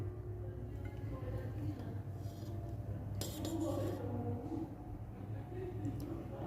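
A spoon scraping and clinking against a pot as matar pulao is served out, soft metallic clinks over a steady background hum, with someone talking throughout.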